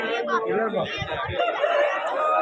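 A rooster offered for sale crows and clucks through nearly continuous nearby talking, its calls partly buried under the voices.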